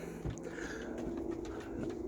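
Pigeons kept as roller birds coo softly in a loft, low repeated throaty calls running steadily through the clip with light scuffling, no voices.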